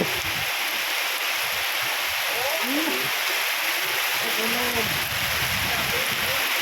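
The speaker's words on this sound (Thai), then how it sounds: "ทั้งฝนทั้งลมนะ" Heavy rain and wind make a constant, loud rushing hiss throughout, with people talking over it.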